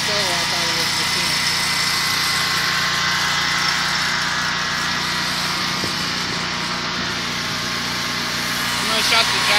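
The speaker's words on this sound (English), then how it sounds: "I'm going to shut the generator back off." An 11 kW Predator generator runs steadily nearby, a loud, continuous engine drone with a constant hum that holds unchanged throughout, with no pauses.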